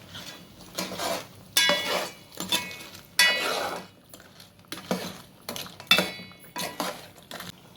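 Crab curry with masala being stirred in a pot, Andhra-style peethala pulusu: a spoon scrapes and clinks against metal in uneven bursts, several sharp knocks between quieter gaps, close and clear with no talk.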